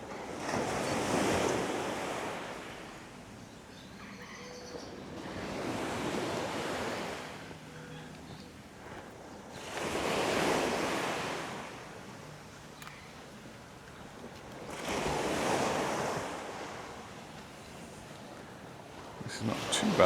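Waves breaking on the beach at Puerto Portals, Mallorca, arriving in four slow surges a few seconds apart with wind noise on the microphone and quiet lulls between them.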